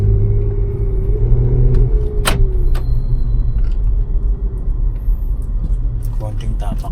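A 2007 Santa Fe with a V6 gasoline engine rumbles close by as the throttle is tapped, a low steady drone with a short rise in pitch early on and sharp clicks and knocks over the top.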